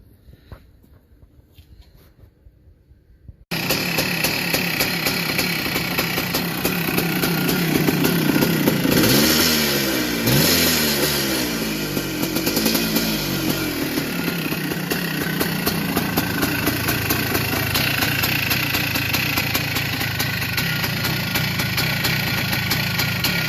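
A 1982 Yamaha YZ490 big-bore two-stroke motorcycle engine bursts into life after a quiet start and runs loud and close, with a revving swell partway through before settling into a rough, steady idle.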